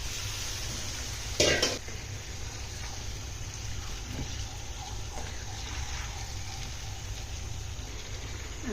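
Chicken pieces for a broiler-chicken biryani drop into hot spice paste in a pan, giving a steady hiss and sizzle throughout with a brief louder burst of frying early on, heard close and alone.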